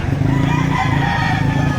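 A rooster crows at a busy chicken market in Batangas, its call drawn out and fairly loud over a dense wash of crowd and poultry noise that fills the whole moment.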